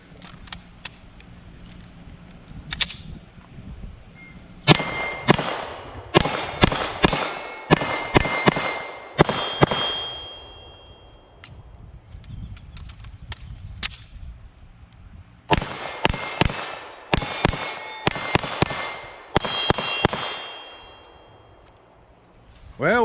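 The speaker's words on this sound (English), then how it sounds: "Archer's gonna put his first rounds through his Smith & Wesson Spec Series" Smith & Wesson M&P 2.0 Spec Series 9mm pistol fired at steel targets on a range: sharp shots, each with a metallic ring, come in two rapid strings separated by a quieter pause, with a single shot before the first string.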